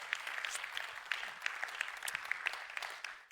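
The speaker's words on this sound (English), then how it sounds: "his team certainly deserve this round of applause, working tirelessly behind the scenes" Faint, sparse applause from a conference audience, scattered individual claps in a quiet hall, fading toward the end.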